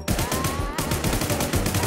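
Rapid automatic gunfire in the zombie shooter game Infestation: The New Z, loud, close, evenly spaced shots in a continuous burst.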